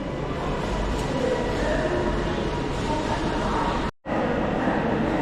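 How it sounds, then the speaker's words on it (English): Passenger train pulling into Preston station, a steady low rumble of wheels and engine filling the platform with broad noise, close and continuous apart from a brief cut near the end. "The Edinburgh service is now coming, followed by the freight."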